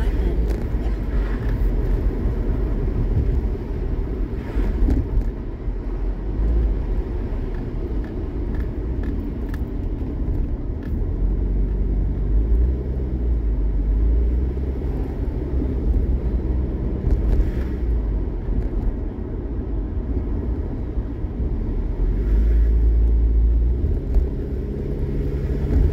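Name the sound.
road traffic heard from inside a driving car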